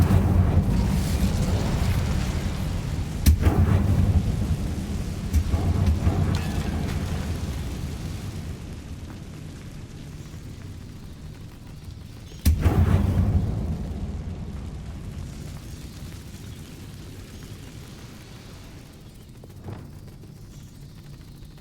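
Incendio fire spell cast in the video game Hogwarts Legacy, two loud roaring whooshing bursts that flare suddenly and then fade into a long rumbling tail, with no speech.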